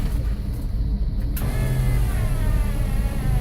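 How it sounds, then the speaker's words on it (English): Rear power window on a 1979 GMC K5 Jimmy moving, a steady electric motor whine that shifts pitch partway through and runs slowly and continuously at close range, with no talking. "the rear window switches up here"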